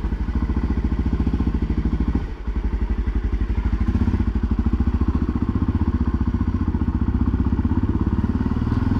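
A blue off-road motorcycle runs steadily while being ridden, its engine pulsing in a rapid, even low throb with a brief dip partway through, close and continuous without talk.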